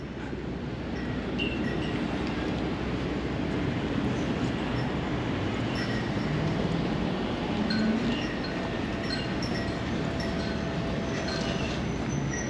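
A train rumbles at the Bayside station near Bell Blvd in Queens, a steady low roar with faint metallic squeals, heard from a distance amid outdoor street ambience.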